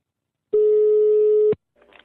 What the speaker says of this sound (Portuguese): Tá chamando.